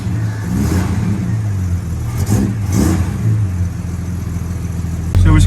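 Ford XD Falcon with a BW35 automatic transmission driving on warm streets, engine humming and revving up and easing off, heard from inside at moderate loudness, with a thump near the end.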